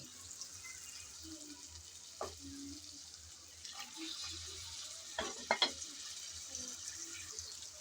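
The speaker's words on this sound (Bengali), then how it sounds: "চিংড়িগুলো দিয়ে নেড়ে চেড়ে ভালোভাবে আবারও একটু কষিয়ে নেব।" Prawns and raw and ripe tomatoes being stirred in a pan, a faint low sizzle broken by scattered clinks and scrapes of a utensil, quiet throughout.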